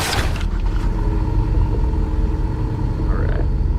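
A Ford Falcon Stallion EcoBoost running in sport mode in a Roblox driving game gives a steady, loud, low engine drone with a brief rasp at the start, heard alone without talk.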